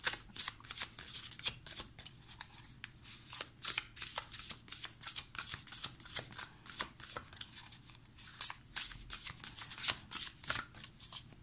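A Beautiful Creature Tarot deck being shuffled by hand, a steady run of crisp, papery riffles and flutters close up, repeating in quick bursts for several seconds with no talking.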